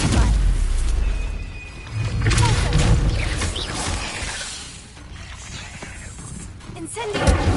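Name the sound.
Stupefy spell cast in Hogwarts Legacy video game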